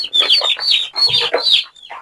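Broiler chicks in a carton on their first day after arrival give several loud, close, high peeping calls in quick bursts with short gaps.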